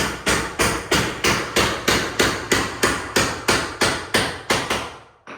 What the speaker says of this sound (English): You can hear some hammering going around.